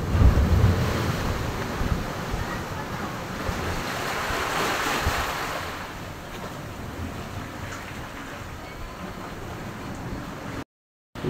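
Steady roar of ocean surf at a rocky shore in Davao Oriental, Philippines, with strong wind buffeting the microphone, a continuous wash of noise that ends abruptly.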